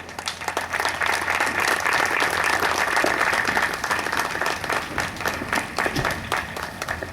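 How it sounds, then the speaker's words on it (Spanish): Sustained applause from a church audience, dense steady clapping that fills the room for several seconds without letting up. "Le damos un fuerte aplauso."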